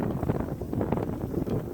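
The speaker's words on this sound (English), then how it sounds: "This wind isn't exactly ideal." Outdoor wind buffeting the microphone while checking muskrat traps, a constant loud low rumble with uneven gusty pulses and no other sounds.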